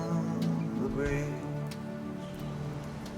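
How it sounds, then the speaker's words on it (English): Rain falling on Skid Row, a soft patter over a steady hiss, heard under background hum and tonal sound with a few faint sharp ticks. "The rain is beginning to fall on Skid Row"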